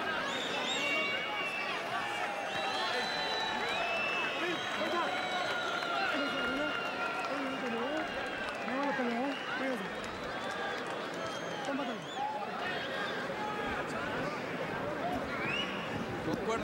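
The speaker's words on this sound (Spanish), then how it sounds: "el público recompensa a ambos de esos gladiadores poniéndose de pie y dándoles un tremendo aplauso" A boxing arena crowd rises for a standing ovation after a bout, a continuous, roaring swell of clapping and cheering with no breaks, heard beneath steady commentary from announcers talking over it the whole time.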